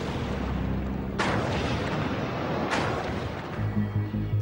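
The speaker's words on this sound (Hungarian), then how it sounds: "Egy hidrogén robbanás keresztül robbantja a hármas blokk tetejét." A hydrogen explosion at the Fukushima Daiichi nuclear plant's reactor unit 3 sounds as two heavy, booming blasts a second and a half apart over a constant roaring rumble, followed by low thuds.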